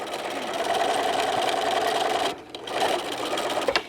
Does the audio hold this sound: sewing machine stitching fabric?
yes